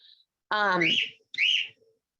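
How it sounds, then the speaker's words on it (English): A pet bird at home gives a short burst of bright, whistling chirps, two close phrases with a brief pause between them. "Sorry, I think my bird is chirping."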